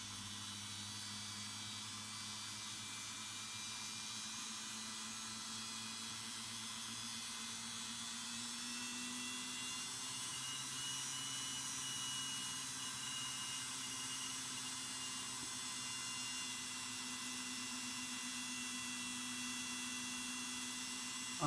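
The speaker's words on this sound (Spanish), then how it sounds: "Es como un motor de dentistería, de odontólogo, que me va a ayudar con el proceso para que me quede muy parejito y no se note la unión." A small dental-style rotary motor tool grinding and polishing down a weld seam, producing a continuous, faint high whine with a steady hum that shifts slightly in pitch as load changes, no talking.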